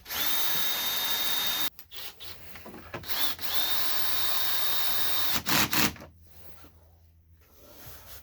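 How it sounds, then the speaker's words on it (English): A power drill drives a Torx screw on a VW Passat B5 2.8L V6 engine during camshaft seal and timing belt work: close, whining bursts of drilling split by short pauses and clicks. "I'm also gonna install this Torx screw on the other side."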